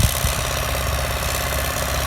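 An MTZ tractor engine idles close by with a steady, knocking rumble, loud and continuous throughout.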